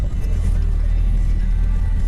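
A 4x4 descends a steep, rocky track in low range and first gear, its engine holding the vehicle back with a steady, low, loud rumble.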